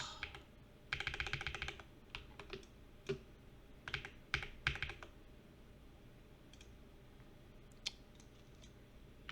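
Computer keyboard keys pressed during Photoshop editing, bursts of quick close clicks and single taps with pauses between, fairly quiet, no talk.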